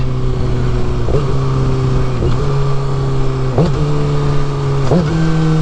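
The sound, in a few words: car engine downshifting in traffic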